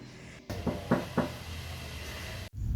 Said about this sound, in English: Hurries up to the cottage door and tiptoe and knocks 3 times.